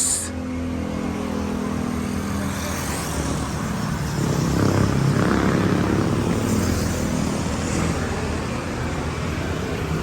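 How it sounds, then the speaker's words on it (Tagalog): Highway traffic heard as a continuous broadband roar of passing vehicles, swelling louder around the middle as a vehicle goes by, then settling back to a steady rumble with no talking. "This is the highway."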